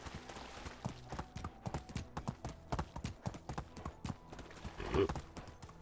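Steady hoofbeats of a galloping horse in the video game Medieval Dynasty pound in a quick rhythm, with a brief whinny near the end.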